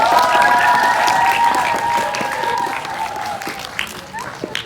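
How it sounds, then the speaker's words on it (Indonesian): Students and audience at a school speech event at SMP Muhammadiyah Ahmad Dahlan Aekkanopan applaud a group of presenters, crowd clapping mixed with a sustained tonal hum and voices, fading slightly toward the end. "Mari kita sambut dengan tepuk tangan yang gemuruh."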